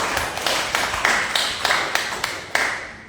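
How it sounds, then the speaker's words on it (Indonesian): Church congregation clapping in rhythmic unison, a steady series of loud, sharp claps at an even beat, filling the room. "Berikan tepuk tangan yang meriah."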